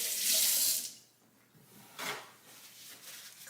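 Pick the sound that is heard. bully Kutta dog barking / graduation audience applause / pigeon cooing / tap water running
tap water running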